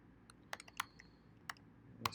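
Typing on a computer keyboard, a short burst of close, crisp key clicks in an irregular rhythm over a quiet background, with no talk.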